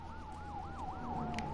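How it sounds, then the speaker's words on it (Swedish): Police car sirens wail in The Last of Us, a steady rising-and-falling electronic tone sweeping up and down repeatedly over a low rumbling background, with a second siren layered beneath. "Polisbilar."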